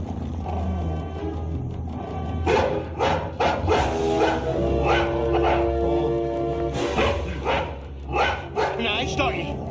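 A dog barks and yips several times in a horror film scene, the barks loud and close, while someone speaks over them in a coaxing tone.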